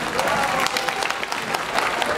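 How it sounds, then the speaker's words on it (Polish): Outdoor crowd at a dachshund parade award ceremony claps for the prize-winning dogs, a loud steady wash of applause from many people with faint voices underneath. "Figa, Una, Zula, brawa wielkie!"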